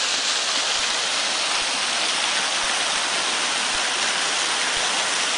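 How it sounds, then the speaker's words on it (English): A waterfall in the Ozark Mountains gives off a steady, even rush of falling water with no breaks, heard alone at moderate volume. "get another waterfall here in the Ozarks"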